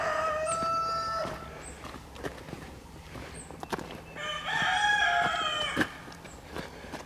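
Chickens clucking and a rooster crowing several times in a backyard vegetable garden with corn, peppers and melons, the calls close and fairly loud, coming in bursts over a low outdoor background.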